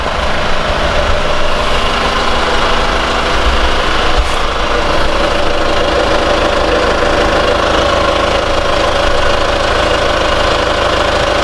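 A Kia Sorento Prime 2.2 diesel engine idles steadily up close, a constant low rumble with a faint knocking rattle throughout.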